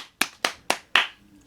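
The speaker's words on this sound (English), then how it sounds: "All 5 claps." Four sharp, evenly spaced claps about a quarter second apart, close and crisp, each decaying quickly, with no talk, like a small deliberate round of clapping.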